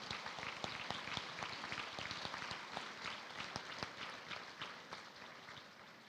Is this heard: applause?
yes